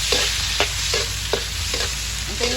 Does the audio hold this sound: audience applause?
no